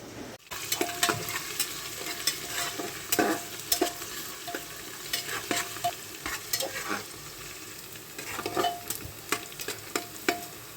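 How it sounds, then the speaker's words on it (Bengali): Onions and green chilies frying for khichuri in a home kitchen: a steady close sizzle in hot oil, with intermittent stirring scrapes of a spatula against the pan throughout. "খিচুড়ি রান্না করার জন্য পেঁয়াজ কাঁচামরিচ ভেজে নিচ্ছি"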